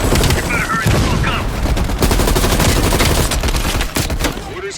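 A heavy machine gun fires in Call of Duty: Black Ops Cold War, loud, dense sustained bursts with booming impacts, broken by brief pauses and faint voices underneath.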